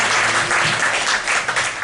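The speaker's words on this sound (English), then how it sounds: "Give the gentleman a round of applause." An audience at a live comedy mind-reading show bursts into loud, dense applause, continuous clapping filling the whole moment.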